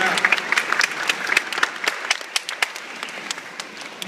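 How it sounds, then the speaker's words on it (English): An audience at an aquarium dolphin show breaks into applause, a dense stretch of many hands clapping that stays loud and steady, then thins slightly toward the end. "Let's get a big round of applause for this round."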